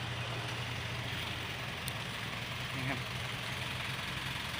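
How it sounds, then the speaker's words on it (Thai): A tractor engine runs at a steady mid-pitched idle-like chug while grading a dirt road, heard from nearby as a continuous drone with faint background noise. "ตอนนี้รถไถกำลังทำทางครับ"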